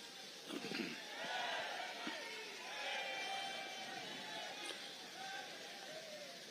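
A large political rally crowd in Tamil Nadu, gathered for Home Minister Amit Shah, cheers and shouts in a faint, distant hubbub with scattered louder cries rising over the steady murmur.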